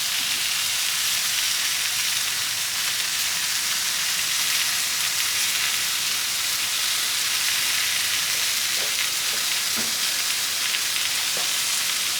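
Burger patties sizzle on a hot grill, a constant crackling hiss with a few small pops and taps near the end, close by and without speech.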